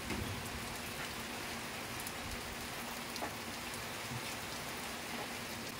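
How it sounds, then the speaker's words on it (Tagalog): Steady rain pours down outdoors during open-air cooking of pork pata hamonado, a dense continuous hiss of drops striking surfaces with no talk. "Hindi kami nag-expect na umulan kasi mainit. Nainit kanina. Bigla lang umulan."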